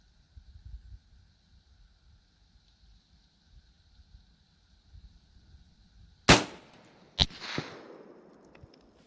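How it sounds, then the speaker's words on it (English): A 7.62x39 rifle shot fired at a 400-yard target, one sharp loud crack followed by a second distinct report and a decaying tail, after quiet faint background hum. "Either way, we're really close on the first shot"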